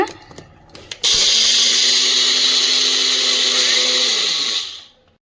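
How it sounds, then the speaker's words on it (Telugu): After a few brief clicks, a kitchen mixer grinder powdering sugar whirs loudly and steadily at high speed for several seconds, then winds down to silence. "ఇప్పుడు పౌడర్ లాగా అయితే మిక్సీ పట్టేసుకుంటున్నాను అనమాట"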